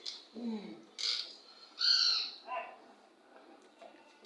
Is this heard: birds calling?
yes